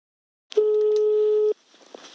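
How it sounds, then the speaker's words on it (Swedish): A telephone line tone sounds while calling a pension advice number, a single steady electronic beep of about one second, clear and close, followed by faint handset noise. "Vi ringer det nummer vi får på Pensionskontakt."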